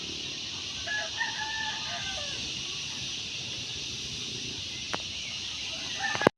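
A rooster crows in the distance over a constant high insect drone, with a few faint clucks and clicks.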